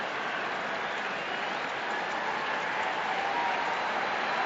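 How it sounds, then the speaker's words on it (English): A baseball stadium crowd at a Cardinals–Astros playoff game produces a steady, even wash of cheering and applause, broad and sustained at moderate distance with no clear individual voices. "Now the crowd into it here again"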